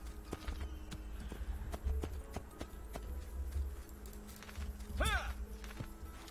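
A horse walks at a steady pace in the video game Assassin's Creed 2, its hooves clopping in an even rhythm over a low ambient bed, with a brief whinny-like call near the end.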